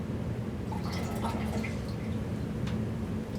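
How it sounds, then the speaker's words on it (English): Warming water is poured out of a coffee vessel, a continuous liquid splash and trickle with scattered drips, moderately close and steady throughout. "You're going to pour this water out."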